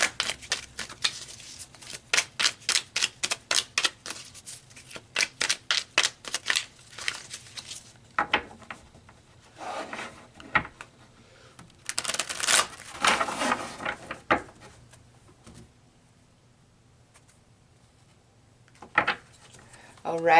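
Tarot cards are shuffled in a quick run of crisp riffling snaps, followed by quieter sliding and flicking as cards are drawn and laid down, with pauses between.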